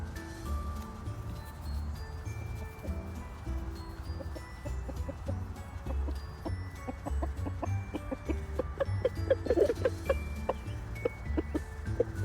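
Several chickens cluck and murmur softly in short scattered calls over a low background hum, growing a little busier toward the end.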